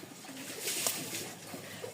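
Rajshahi pigeons coo softly nearby, low throaty calls repeating over quiet background noise.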